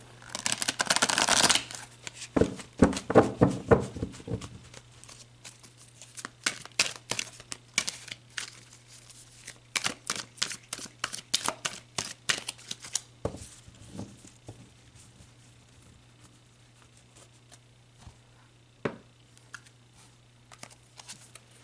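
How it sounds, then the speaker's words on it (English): Tarot cards are shuffled close by in quick riffling bursts and patters that come in clusters, loud at first and then sparser and fainter toward the end, with no talking. "So let's pull you some tarot."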